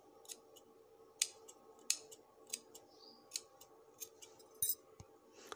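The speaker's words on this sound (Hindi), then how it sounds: "अब हम जो ये हमारा फालतू कपड़ा है अंदर का इसकी हम कटिंग कर लेंगे" Scissors snip through excess fabric and cut small notches along a stitched neckline, giving about a dozen short, crisp, close-up snips at an uneven pace over quiet room tone.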